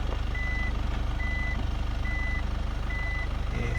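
Steady, evenly spaced reversing beeps chime repeatedly over a low engine hum from a Mitsubishi Delica D:5 backing up on an off-road slope, each tone clear and close.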